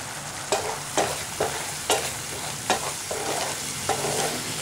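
Chili powder and curry masala being stirred in a frying pan, close sizzling broken by regular spatula scrapes roughly every half second, each stroke a sharp scuffing burst over the hiss.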